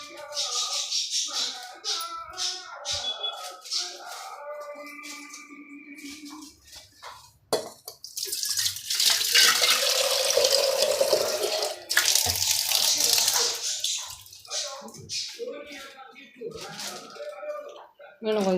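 Water is poured and splashed in a kitchen while tamarind is being rinsed and dissolved for horse gram rasam, coming in intermittent splashes with a longer pouring stretch in the middle, under someone talking.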